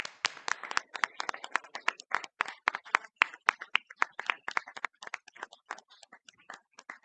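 Scattered, fairly quiet hand claps from a city council meeting audience applauding a marching band, with sharp, uneven claps that thin out toward the end.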